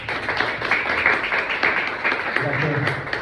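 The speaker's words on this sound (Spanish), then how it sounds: "les pido un fuerte aplauso" An audience applauds at a university philosophy lecture, a dense, steady wash of clapping that holds throughout at moderate loudness.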